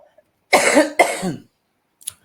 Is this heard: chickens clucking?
no